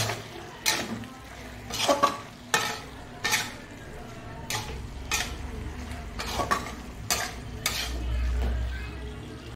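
A spoon scrapes and clatters around a cooking pan in a run of sharp, fairly regular strokes while food sizzles quietly beneath, close and without talk.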